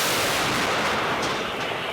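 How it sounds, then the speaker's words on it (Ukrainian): A loud, continuous roar from heavy 152 mm artillery gun fire fills the whole stretch, a rolling blast with no pause. "Гармата, постріл!"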